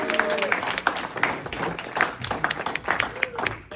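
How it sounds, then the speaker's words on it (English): Audience at a comedy show applauding and cheering as a comedian takes the stage, a dense wash of claps with voices mixed in throughout, fairly loud and continuous. "please help me give him a warm round of applause"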